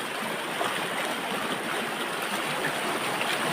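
Stream water flowing swiftly in a natural outdoor spot, partly hidden by grass; a steady, fairly loud rushing wash of water that continues evenly throughout with no voices.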